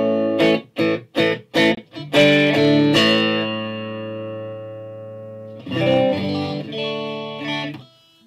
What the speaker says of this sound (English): So we're going into that pedal and then straight into the Orange TH30.